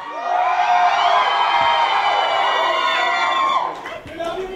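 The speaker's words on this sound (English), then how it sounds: "Can we hear it? Loud scream for Hrithik!" A large, loud crowd at a film success celebration for Krrish 3 screams and cheers continuously, a dense sustained roar of many voices that briefly dips near the end.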